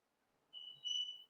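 A pressure cooker cooking rajma curry lets out a single thin, steady whistle that rises and holds for under a second, fairly faint, with no voices.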